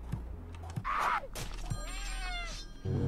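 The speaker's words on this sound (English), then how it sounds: "No, the kitten!" A kitten meows in the Friday the 13th puzzle game, a bright rising-falling cry standing out over soft game music and clicks, with faint background tones and no talking.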